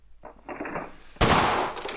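A Colt 1911 fires in the World of Guns game: a brief lighter mechanical clatter, then one loud, sharp gunshot that rings out and tails off.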